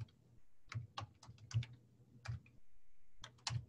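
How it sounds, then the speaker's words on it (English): Typing on a computer keyboard at a university GIS center workstation: quiet bursts of close key clicks in short irregular runs, with brief pauses and low background hum. "So I'm going to type in"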